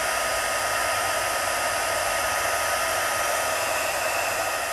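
A heat embossing tool blows a steady, loud, hair-dryer-like whoosh as it melts clear embossing powder on a card, unbroken from start to finish.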